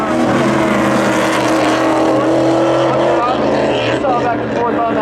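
Cars race on a spectator drag strip at a season-finale thrill show, engines roaring loudly and continuously with tire squeal, under an announcer's voice.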